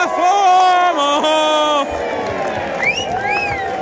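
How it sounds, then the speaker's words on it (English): Essex cricket crowd at a match against Glamorgan cheering and whooping loudly after big shots, with a commentator talking excitedly over the roar before it settles into lighter crowd noise. "this Essex crowd are loving what they are seeing"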